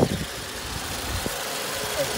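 The 2.5-litre 2AR-FE engine of a 2010 Toyota Camry LE idles as a steady, low, even hum under broad background noise, with a faint voice at times.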